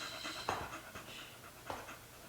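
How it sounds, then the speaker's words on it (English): A pet dog named Stella pants rapidly and rhythmically close by, with light shuffling and movement sounds mixed in. "the dog just came home, so you might be able to hear like a little bit of panting and movement"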